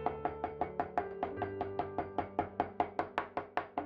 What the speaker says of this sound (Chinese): 用刀剁得碎一些，